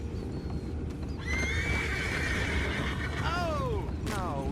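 A horse gives a clear, loud neigh in Red Dead Redemption 2, with two descending whinnies near the end over faint hoof clip-clops and ambient noise in the Beaver Hollow chapter.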